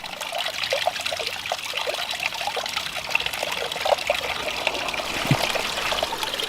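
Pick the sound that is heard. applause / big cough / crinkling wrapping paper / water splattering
water splattering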